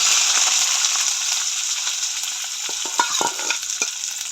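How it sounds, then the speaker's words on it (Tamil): Onion, green chili and garlic sizzling in hot oil for a Jaffna-style prawn curry, a loud continuous hiss with a few stirring scrapes near the end. "நாங்கள் வந்து வெங்காயம், பச்சை மிளகாய், பூண்டு எல்லாத்தையும் வந்து போடுவோம்."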